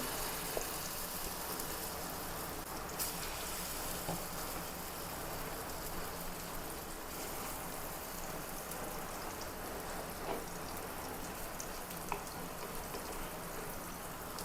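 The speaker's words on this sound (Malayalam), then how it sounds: "ബാക്കി അതും കൂടി ഒന്ന് വറുത്തെടുക്കാം." Pilopi fish pieces fry in a pan of oil with a steady, close hiss and crackle that goes on without a break, with faint pops scattered throughout.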